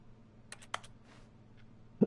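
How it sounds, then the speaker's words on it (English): Keyboard typing sounds from The Stanley Parable play when interacting with something, heard as a short run of soft, clicky keystrokes followed by a lone faint tap and a sharper thump at the end. "it sounds like a keyboard?"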